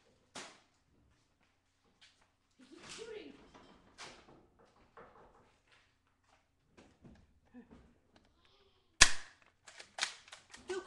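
Gunfire in the video game Left 4 Dead, with a few scattered shots spread through quiet stretches and a louder, sharper burst of several shots near the end, while voices talk over the game.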